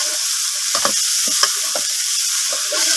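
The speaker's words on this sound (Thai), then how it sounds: "ผัดกันพี่น้องมัน ผัดเครื่องกันครับ" Seasoning ingredients for a country-style stir-fried eel dish fry in a hot pan, a loud steady sizzle with scattered spatula scrapes and stirring strokes throughout, no voice heard.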